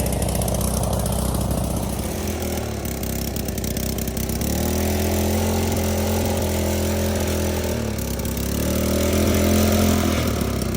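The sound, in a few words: engine of a wasteland racer build running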